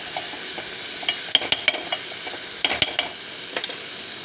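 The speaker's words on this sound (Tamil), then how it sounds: "கொஞ்சோண்டு தயிர், தட்டி தயிர் அதையும் விட்டுட்டு நல்லா கிண்டி விடுங்க" Mango kootu with curd being stirred in a pan over a low flame, a steady soft sizzle broken by a series of sharp spoon scrapes and taps against the pan, close and alone without talk.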